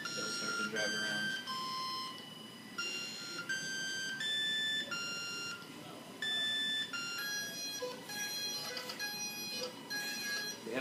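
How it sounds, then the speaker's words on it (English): A robotic alarm clock that drives around rings with a series of bright electronic beeps and tones in a repeating pattern, moderately loud, with brief gaps between bursts. "The alarm's going to go off for 15 seconds"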